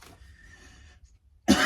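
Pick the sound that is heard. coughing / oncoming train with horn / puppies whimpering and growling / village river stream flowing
coughing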